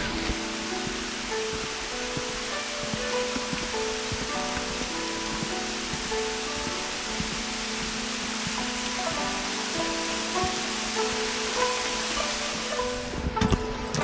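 A waterfall beside a shrine in rural Japan, a constant broad rushing wash of falling water with faint tonal sounds over it, steady and moderately distant until a short bump at the end.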